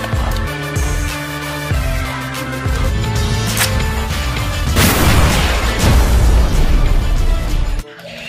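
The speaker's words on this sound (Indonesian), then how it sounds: "Wow, ada tembakan basoka." A toy bazooka fires with a loud crackling boom that swells over tinny electronic tones, then cuts off abruptly.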